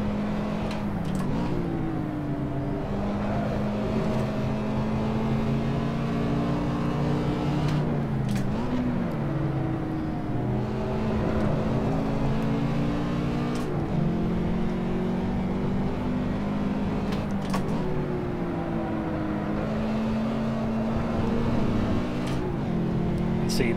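A Toyota GT86 engine in Assetto Corsa at Zandvoort, a loud, continuous drone that rises in pitch through long pulls and dips sharply at each shift or lift, repeating for several cycles, up close and with no talk.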